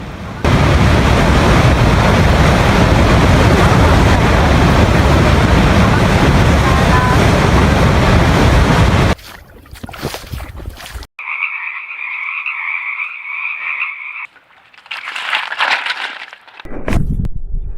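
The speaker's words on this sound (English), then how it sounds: "There's a waterfall!" A waterfall on a seasonal creek on rural land near Redding, California: a loud, dense roar of rushing water for about nine seconds, then quieter outdoor sounds with a steady high croaking.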